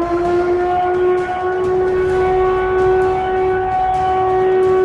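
Siren used in Caldas de Vizela to call residents out into the street, sounding at an outdoor festive event as a loud, steady, sustained wailing tone throughout, with no talking over it.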